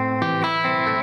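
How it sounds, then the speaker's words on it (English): Distortion effect from an electronic music interface, a sustained buzzy harmonic tone that shifts timbre in short steps, loud and steady with no pauses. "So I kind of have a smooth palette of distortion sounds from your clean,"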